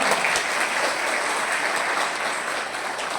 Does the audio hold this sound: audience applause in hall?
yes